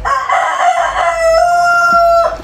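A rooster crows once, close and loud: a long, drawn-out call that rises and then holds a steady, bright tone for about two seconds before cutting off, with no voices around it.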